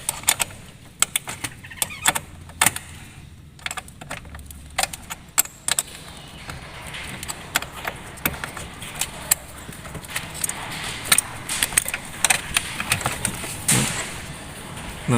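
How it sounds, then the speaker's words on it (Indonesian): Metallic clinks and scrapes of a wrench loosening and lifting off the positive battery terminal of a car, a run of sharp close-up clicks and taps over a faint background hum. "Lalu dilanjutkan melepas terminal positif pada kendaraan."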